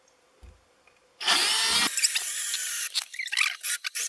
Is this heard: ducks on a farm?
no